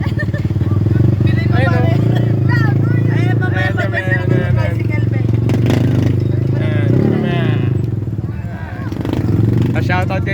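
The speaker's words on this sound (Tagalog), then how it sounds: "At eto kami ngayon, nasa tricycle." A motorcycle tricycle rides along with a constant, loud engine drone and rattling, while passengers talk over it throughout.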